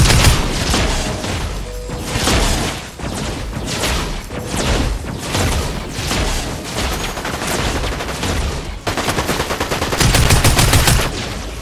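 Dense gunfire in a Star Wars video game, loud and nearly continuous bursts of rapid shots coming from many directions, with heavier booming volleys toward the end and no talking over it.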